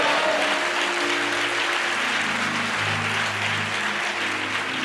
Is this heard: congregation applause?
yes